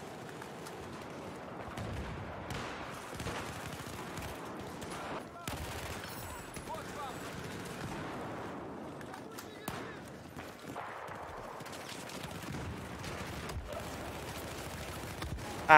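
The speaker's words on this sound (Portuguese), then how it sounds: "Já fui seco pra dar um tiro nele." Gunfire crackles through a Battlefield 4 match on the Hainan map, with bursts of shots, explosions and game noise layered under a player talking.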